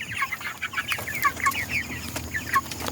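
Chicks and broiler chickens cluck on a farm, with repeated high chirps and clucks over a steady background, fairly close and with no talking.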